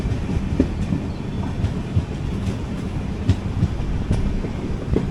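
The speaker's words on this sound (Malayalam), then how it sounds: "ജസ്റ്റ് കാർവാർ സ്റ്റേഷനിലേക്ക് കയറുന്നു." An express train pulls into Karwar station with a steady low rolling rumble and faint rhythmic wheel clicks, heard from on board with no talking.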